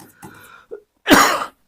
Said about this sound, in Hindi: थोड़ी सी खांसी हो गई है ना।